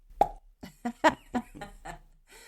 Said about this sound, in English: you had that lovely suction noise when you got your leg out